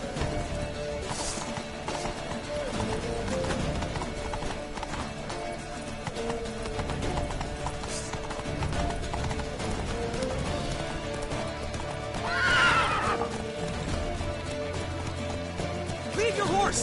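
A horse gallops in a PS4 video game with a steady clip-clop of hooves, and at one point a neigh cuts through. Voices talk over it throughout.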